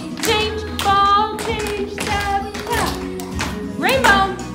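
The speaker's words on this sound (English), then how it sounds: "Step, clap." Hand claps in a children's creative dance class routine, sharp repeated claps falling in rhythm with the steps while a voice calls out the moves over music.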